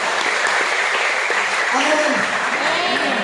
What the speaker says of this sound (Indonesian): Boleh tepuk tangan untuk Tuhan kita.